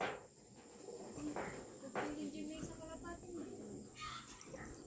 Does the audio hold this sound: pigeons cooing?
yes